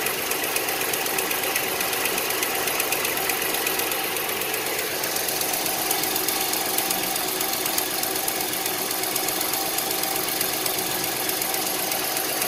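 A 5.7 Hemi V8 engine idles with a rapid, steady mechanical ticking laid over its hum, close and continuous without interruption.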